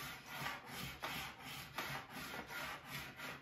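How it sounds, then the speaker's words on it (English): A plastic scraper removing wax from a snowboard base, rhythmic back-and-forth scraping strokes about twice per second, close and clear with no talking. "In those areas, you kind of need to bend the scraper to fit in those divots."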